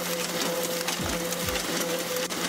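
An offset printer at a printing company runs with a steady mechanical whir and hum, broken by a few heavy low thumps, heard alone with no voices.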